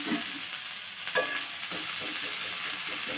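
Onions sprinkled with pepper powder fry in a pan with a steady, moderate sizzle and a few light stirring clinks.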